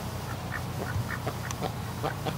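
Ducks and geese on a farm quack in short, scattered calls over a steady outdoor rumble, a small flock chattering at moderate distance.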